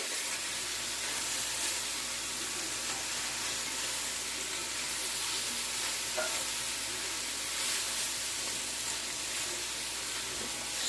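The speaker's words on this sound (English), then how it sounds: "The high heat cover helps give you that sizzle." Fajitas sizzle and hiss steadily in a very hot pan, a dense continuous crackle with no talking.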